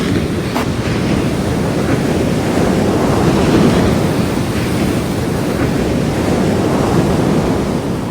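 Ocean waves surge against coastal rocks in a steady, loud roar of churning surf, continuous for several seconds with no voices, heavy and close.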